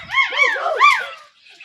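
A dog gives a string of high, wavering whimpering yips and whines at close range, rising and falling over a second or so before fading, with no voices over it.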